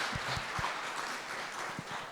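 Applause from an audience closing a conference panel discussion, faint and scattered, with a few distinct claps over a soft patter.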